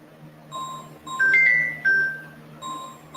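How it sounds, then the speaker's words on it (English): A phone rings nearby with a short electronic melody of bright, clean tones that rise and fall, sounding alone in a quiet room for a few seconds. "My phone's ringing."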